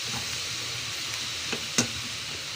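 Spices tempering in hot oil in a pan give a soft, steady sizzle, with a couple of brief clinks or stirring taps standing out near the end.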